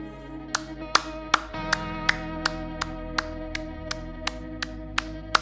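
A pair of hands clapping in a video game, about fourteen crisp claps in a steady, even rhythm over a low sustained musical drone, close and clear.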